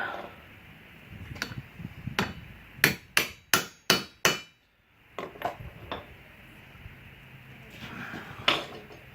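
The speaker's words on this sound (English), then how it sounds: "Let me hammer this down just a little bit." Sharp metallic hammer blows on a Jeep Cherokee part during U-joint replacement, a few spaced strikes then a fast run of five heavy ringing hits, followed by lighter taps.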